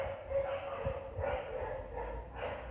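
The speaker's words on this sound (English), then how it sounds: "Dogs." Dogs bark and yap in short bursts from a residential front garden, moderately close and mixed with ambient outdoor noise, with a few louder yelps standing out.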